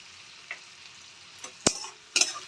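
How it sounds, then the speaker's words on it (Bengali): Salted onions fry softly in a pan, a low sizzle broken by a few sharp scrapes and clatters of stirring, with no voices. "পেঁয়াজটা একটু ভেজে নেব আমি"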